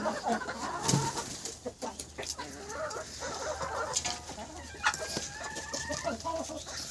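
Hens cluck in short, irregular bursts close by, with scattered sharper squawks and calls overlapping throughout.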